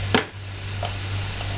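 Shallots and curry leaves browning in oil in a pan for a buttermilk curry, a steady close sizzle with a sharp scrape of stirring at the start and a softer one midway.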